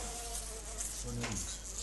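A bee buzzes close by with a steady insect drone, rising briefly in pitch near the middle, over a faint background hum.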